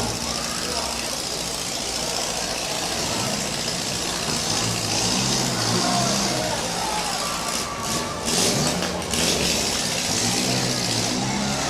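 Sluggish engine of demolition derby car number 00 at a Portage County, Ohio derby, a steady mid-range idle-like drone that persists under ongoing announcer talk and crowd noise throughout.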